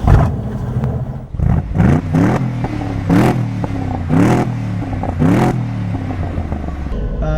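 A Morgan Aeromax's side exhausts, exiting beside the driver's and passenger's hips, bark through a series of sharp revs, each rising roar followed by a crackling drop back to a burbling idle, loud and close.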